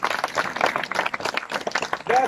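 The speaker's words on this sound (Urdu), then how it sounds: "زوردار تالیاں جی." Loud clapping from a gathered audience at a turban-tying (dastar bandi) ceremony during a prize presentation, a dense burst of hand claps close by with voices mixed in.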